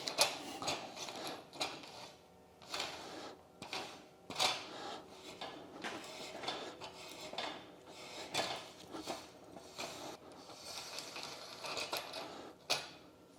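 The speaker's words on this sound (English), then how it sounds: "I tend to put just a few threads on at a time to keep the dies and the thread," Threading die cutting threads onto steel conduit with cutting grease, a few threads at a time, giving irregular metallic ratcheting clicks and scraping bursts that come in uneven strokes, close and fairly quiet with short pauses between.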